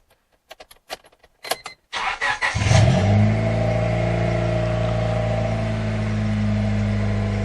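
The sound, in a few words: 1998 Honda Civic engine starting and revving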